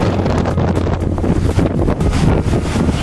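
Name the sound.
wind in Venice, Italy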